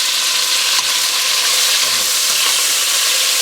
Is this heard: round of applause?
no